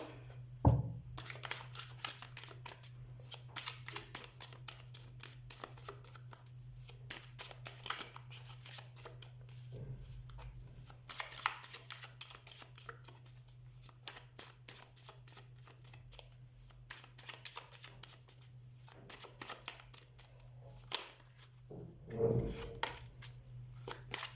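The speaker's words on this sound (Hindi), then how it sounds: "हम कार्ड शफल कर लेते हैं।" Tarot cards shuffled by hand in a long, steady run of crisp riffling and flicking, close and fairly quiet, with a low steady hum underneath and no talking.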